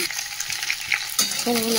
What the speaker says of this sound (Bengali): আলু পেঁপেটা একটু ভাজা ভেজে নিই